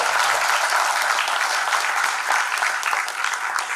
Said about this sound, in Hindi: एक बड़ा एक स्पेशल वेलकम आप अपने आप को दे दीजिएगा,